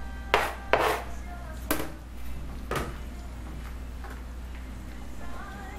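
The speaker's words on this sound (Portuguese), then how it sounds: "pensa numa faca boa, perfeita para picar coisas, legumes, verduras" A sharp kitchen knife chops vegetables on a board in a home kitchen, a few distinct knocks spaced irregularly, fairly quiet against a low background hum.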